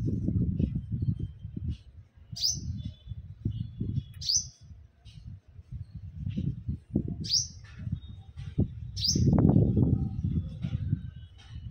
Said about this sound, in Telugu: సో ఒక్కసారి ఆ చిలుక చూడండి,